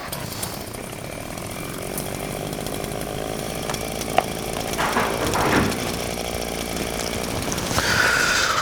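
Loud, rough, sawing snoring from a sleeping man that rises and falls like a chainsaw, continuous throughout with a few sharp cracks, no talking.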